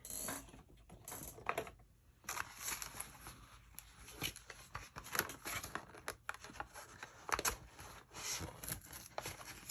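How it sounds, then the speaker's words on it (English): Quiet snipping and crisp rustling, a few short cuts in bursts, close up and faint, with no talking. "grabbing my scissors"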